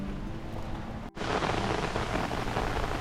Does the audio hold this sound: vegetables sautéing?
no